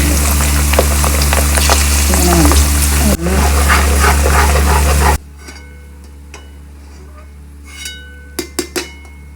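Garlic frying in hot oil for a spicy beef pickle, a loud dense sizzle for about five seconds that suddenly drops away, followed by quieter background and a few sharp clatters.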